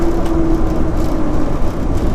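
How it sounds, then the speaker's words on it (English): A 1934 Ford coupe's engine runs steadily, close and loud, with a low rumbling exhaust carrying a faint leaky edge and a brief tonal hum early on; no one speaks. "it has an exhaust leak"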